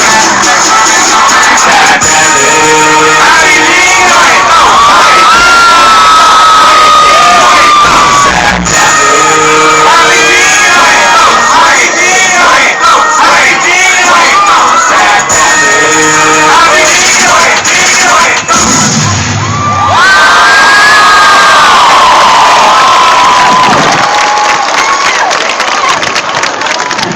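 A large crowd at a Texas vs. OU torchlight rally shouts, cheers and yells loudly throughout, with bursts of chanting and applause swelling and fading in a dense, continuous roar.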